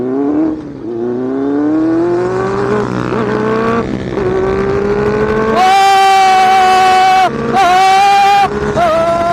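A Benelli 600i motorcycle revs hard and accelerates up through the gears, its engine note climbing steadily and rising to a loud, high-pitched scream, close and dominant.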